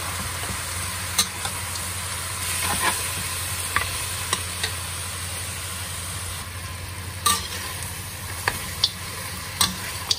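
Lamb sizzles in a pot with soy sauce as a spoon stirs it, with low frying hiss and sharp scattered clinks of utensil on metal, close and without voices.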